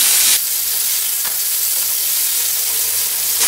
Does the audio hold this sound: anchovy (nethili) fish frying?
yes